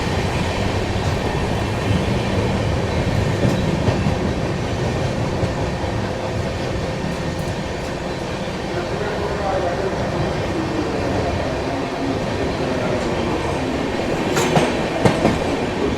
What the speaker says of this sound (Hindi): बढ़िया ट्रैक साउंड बहुत ज़बरदस्त आ रहा है